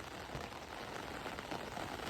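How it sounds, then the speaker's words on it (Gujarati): Steady light rain patters softly and evenly on a surface, a continuous faint hiss with no voices. "ધીમો ધીમો ધીમો ધીમો વરસાદ ચાલુ થઈ ગયો છે"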